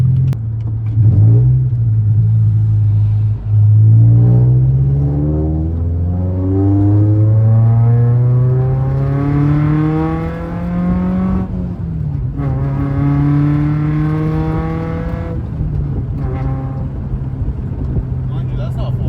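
A car accelerates hard at night at part throttle, its engine note rising steadily through two long gear pulls with a brief dip at the shift, loud and close from inside the cabin.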